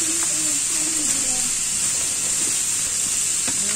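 Tuna cooks in a pan with a steady, moderate sizzle and hiss throughout, a few faint clicks and knocks from the cookware sounding underneath.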